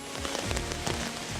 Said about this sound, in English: It is still raining cats and dogs this morning.